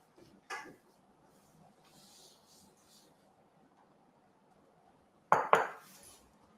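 A spoon clinks against a bowl while dates, lemon zest and baking soda are mixed for a date walnut loaf; two sharp, fairly close knocks stand out, one early and one near the end, separated by a long quiet stretch.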